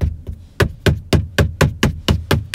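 Knuckles rap repeatedly on a Tesla Model X door panel, giving about ten evenly spaced, close, hollow knocks in a steady rhythm with no talking.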